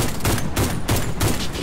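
Sniper rifle shots in Warface fire in a quick, loud series of about four evenly spaced cracks, each with a short booming tail, close and alone.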